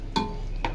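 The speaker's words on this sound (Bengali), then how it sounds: "আদা রসুন পেঁয়াজ পেস্টটা কিন্তু দিয়ে দিচ্ছি" Ginger, garlic and onion paste hits hot oil in a frying pan, giving two short bursts of sizzle over a steady background hiss, close and fairly loud.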